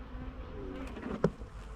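Honey bees buzz around an open hive during a first farm hive inspection, a low continuous hum with a brief louder burst near the end, heard alone without talk.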